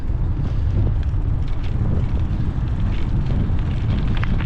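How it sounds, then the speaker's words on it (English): Steady, loud wind buffeting the microphone, a constant low roar and rumble that fills the whole clip. "Nice and windy."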